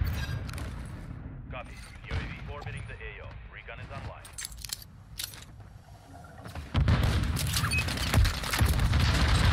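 Gunshots fired through a wall on the Favela map in Call of Duty: Modern Warfare 3 crack out as several sharp, loud bursts within busy game noise, ending in a louder stretch of rumbling action.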